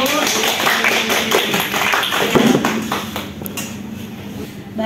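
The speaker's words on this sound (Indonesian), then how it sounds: "Boleh tepuk tangannya dulu." Classroom applause from university students after a group presentation, a dense, steady patter of many hands clapping close by for about five seconds, with some voices mixed in.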